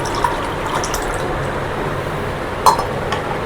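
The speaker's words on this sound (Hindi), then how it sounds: "हमें लेना है 240 ml पानी" Lukewarm water is poured into a measuring cup as a soft running trickle under a low kitchen hum, with light clinks at the start and again near the end.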